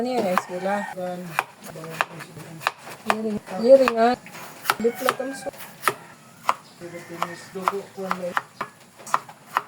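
Corned beef being chopped into small cubes with a knife, sharp knocks on the board scattered throughout, mostly under a steady talking voice.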